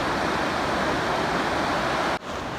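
Steady, loud rush of flowing water filling the whole clip, a dense continuous roar with a brief dip near the end.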